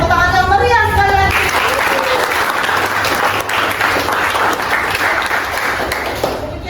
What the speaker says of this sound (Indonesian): Oke, tepuk tangan yang meriah sekalian.